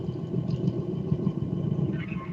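Steady, low mechanical rumble of an engine sound effect sample, running continuously without pauses, moderately loud and alone with no talking.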